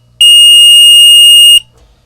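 A Von Duprin 050242 entry buzzer for door hardware sounds one loud, steady, piercing electronic tone that lasts about a second and a half, up close and alone, then cuts off abruptly.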